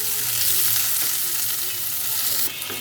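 Small shrimp and chopped onion frying in hot oil in a pan, a steady loud sizzle throughout with a brief stirring scrape near the end, no voices.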